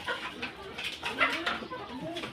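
Soft, repeated cooing from three pigeons close by, a low burbling call rising and falling over about two seconds, with faint background noise.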